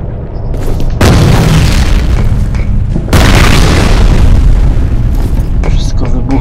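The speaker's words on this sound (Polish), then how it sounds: "Wszystko wybucha." Explosions in the shooter game F.E.A.R., two massive booming blasts in quick succession, each followed by a long roaring rumble and debris, loud and close.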